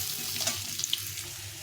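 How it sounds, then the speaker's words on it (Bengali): Potatoes frying in a pan make a soft, close sizzle with a few brief crackles and light clinks, short and without talk. "আলুগুলো দিয়ে দিলাম। আলুগুলো একটু ভালো করে ভেজে নিতে হবে।"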